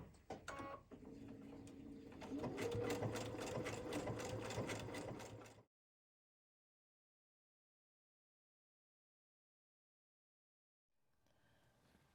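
A sewing machine stitches around the edge of a fabric cross bookmark, a fast, rhythmic mechanical whirr for about five seconds, then silence before faint room noise returns.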